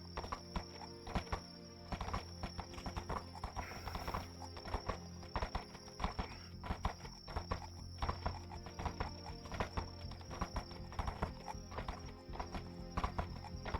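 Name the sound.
horse hooves and neighing in the video game VRChat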